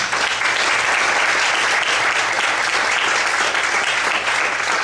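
A church congregation claps loudly and continuously, a thick, even roar of many hands with no voices standing out.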